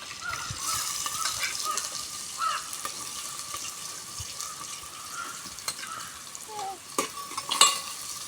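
Onions fry in hot oil in a pan, a steady, close crackling sizzle running throughout with occasional sharper pops and stirring clatters, and no talking over it.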